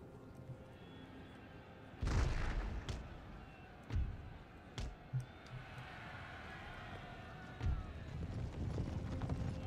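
Clopping hooves and heavy thuds from moving heavy horse artillery in Empire: Total War, with a few louder booms over a low crowd-like murmur; faint speech underneath.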